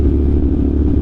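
A motorcycle riding along Marilaque, its engine giving a loud, close, steady low rumble for about a second.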